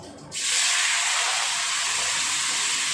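Potatoes tipped into hot oil already holding bay leaves and radhuni seeds: a quiet moment breaks into a sudden loud, steady sizzling hiss that continues evenly.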